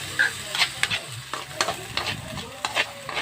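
Potatoes and chayote are stirred in a hot pan, a spoon scraping and tossing in irregular strokes over a soft, continuous sizzle, close by.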